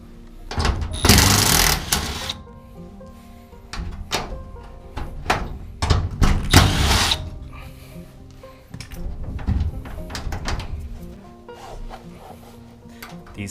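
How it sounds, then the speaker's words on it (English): An impact driver removes bolts from a garage door hinge. Two loud, rattling hammering bursts are followed by shorter clanks and handling knocks at close range. "You could use a ratchet or a wrench, but then an impact driver like this helps a lot."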